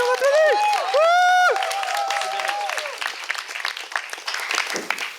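Audience at a French game show applauding and cheering, with a sung or whooping voice over the opening seconds and steady clapping continuing underneath and after.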